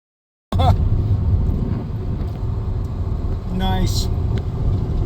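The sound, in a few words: car engine running smoothly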